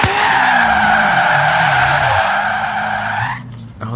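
Tuned race car with a Lamborghini V12 of about 1500 horsepower skidding in a video game, a loud sustained tire squeal over engine roar that fades out near the end.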